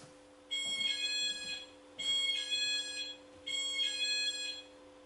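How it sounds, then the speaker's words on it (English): A distant electronic chime from a wireless driveway alarm receiver plays three times in a row, each a bright multi-tone ringing phrase over a steady low hum. "you should hear a chime in the distance from the receiver unit"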